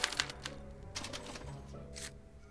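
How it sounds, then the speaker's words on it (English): A special typewriter in the Back to the Future video game prints a punch card, giving a quick run of sharp mechanical clacks and strikes over a low humming background, with a brighter burst near the end. "they're relayed to this special typewriter, which prints out a punch card that represents the subject's mind map"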